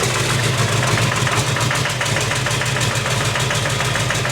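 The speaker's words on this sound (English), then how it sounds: "That sounded awfully knocky, didn't it? I think it's the flywheel." 6.6 Duramax diesel swapped into a Jeep, running at a loud, close idle with a rough, rapid knocking clatter throughout.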